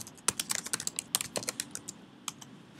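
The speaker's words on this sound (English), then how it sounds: "Here you'll be able to type in the name of the folder you wish to organize these projects" Quick, uneven bursts of clicking on a computer keyboard as a folder name is typed, crisp and close with short pauses between runs of keys; no voices.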